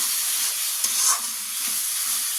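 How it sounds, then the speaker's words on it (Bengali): Egg and potato are stir-fried in a pan for an egg curry, giving a bright steady sizzle with a couple of quick stirring scrapes close by, no voices. "এটা ডিম আর আলুটা কষিয়ে নেব।"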